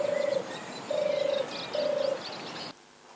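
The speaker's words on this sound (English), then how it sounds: "So before we attract all the turtle doves in from the local area, I better turn that off." A recorded turtle dove's purring call plays back three times in steady repeated phrases at moderate volume outdoors in the countryside, then cuts off abruptly, leaving faint background hiss.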